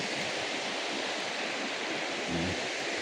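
Broad, steady rushing of the Sapsu river's flowing water fills the air, constant and fairly loud, with no voices.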